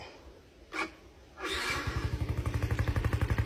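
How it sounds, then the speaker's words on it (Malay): A 2016 Yamaha LC135 V3 motorcycle runs at idle, its exhaust giving a steady, rhythmic thumping close by after a couple of brief noises at the start. "Yang bunyi tu exhaust saja."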